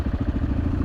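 A borrowed motorcycle engine runs steadily off-road on a Moroccan rally stage, a close, continuous low throb with a chattering pulse and no voices.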